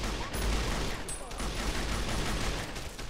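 A DP-28 machine gun firing in a modded Fallout: New Vegas, a dense, loud stream of automatic fire mixed with other gunfire and battle noise, running on without pause.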